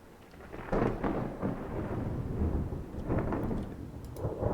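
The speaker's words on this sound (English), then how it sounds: "But I hear thunder. And it's another storm." Thunder rolling through a storm at sea in Ultimate Admiral Dreadnoughts, deep rumbles swelling and fading twice over steady rain noise.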